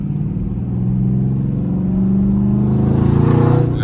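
Catless Scat Pack car making a fly-by: a loud, deep engine roar that builds steadily as it revs, peaking near the end as it passes close.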